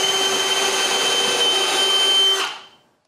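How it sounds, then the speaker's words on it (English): Power drill boring a hole in wood for knock-down joinery, a steady loud whine held for over two seconds before the motor cuts and spins down. "After finding it, you just drill it."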